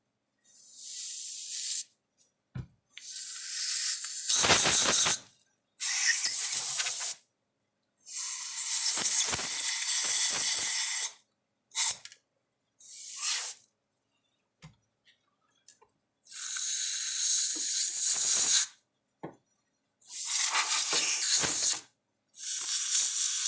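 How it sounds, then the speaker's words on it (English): A can of compressed air blasting dust out of a Zareba fence charger, delivered in repeated sharp hissing bursts of a second or two each, separated by brief silences, close and loud. "And take a can of air, blow it out."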